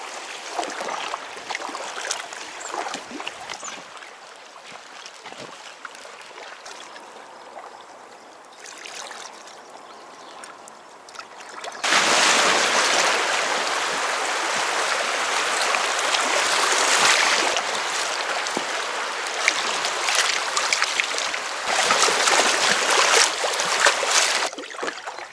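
Fast-moving water on the Kettle River flows around a paddled boat, at first a softer trickling rush with faint paddle splashes, then swelling into a louder, steady broadband rush of flowing water close by.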